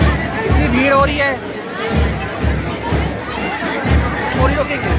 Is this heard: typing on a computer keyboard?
no